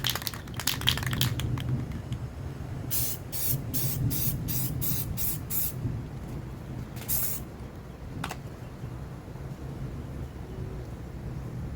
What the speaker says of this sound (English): we're going to spray over them